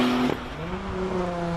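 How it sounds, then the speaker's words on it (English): A Porsche 911 Turbo races through a left-hander on a hill climb, its engine note rising and sliding in pitch as it passes fairly close, loud and alone. "911 turbo hits that left-hander"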